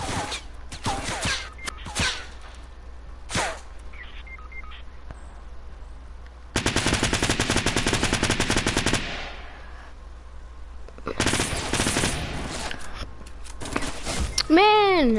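Fortnite gunfire in a match with friends: scattered single shots early on, then a long rapid automatic burst mid-way and more bursts later, loud and near, broken by pauses and odd electronic game tones.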